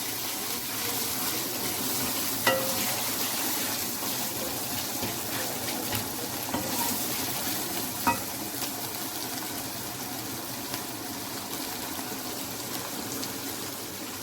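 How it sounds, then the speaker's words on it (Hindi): Minced meat fries with tomatoes, red chillies and turmeric in a steady, dense sizzle that lasts throughout, with a few faint clinks of the stirring spoon. It is close and no one speaks. "अब हम तब तक भूनेंगे जब तक टमाटर नहीं गल जाते।"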